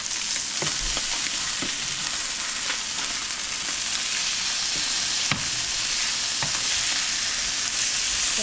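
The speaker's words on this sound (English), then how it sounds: "So now I'm gonna flip the fish." Walleye fillet frying in a pan, a loud dense sizzle throughout with a few sharp clicks and scrapes as the spatula turns the fish over.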